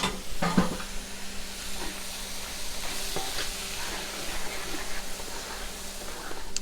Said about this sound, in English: Stirring pretty constantly because we do have the heat up pretty high.